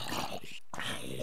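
Tamed dogs growl in Minecraft, a dense, continuous rumbling snarl that runs loud and close through the whole moment, broken only by a brief gap partway through.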